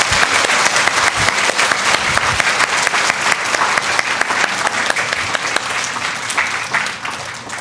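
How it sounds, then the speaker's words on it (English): A crowd at a school pride awards assembly applauds kindergarten children, loud, sustained clapping from many hands running continuously throughout, easing slightly near the end. "Let's give a round of applause to our kindergarten friends"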